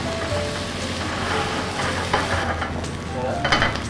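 Sea bream sizzling in a frying pan just after white wine is added, a dense continuous crackle and hiss with occasional sharper spits, close and fairly loud.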